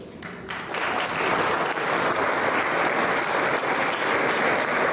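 At a high school senior signing event, an audience applauds the parents of the senior class, dense steady clapping from a large room that swells in quickly and holds loud.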